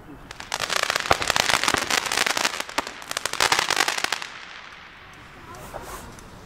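Apple Explosion fireworks go off on New Year's Day in a dense burst of sharp crackling bangs and pops. The burst rises, dips and swells again, then fades into quieter scattered crackle.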